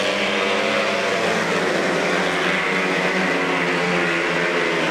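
A pack of race cars launching into a heat race on a dirt oval track, a loud, dense and continuous roar of many engines at full throttle filling the whole stretch without pause.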